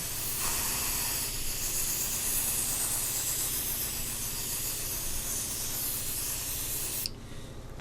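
A continuous loud spray hisses for several seconds on a curling sheet, then cuts off abruptly, leaving a faint low hum.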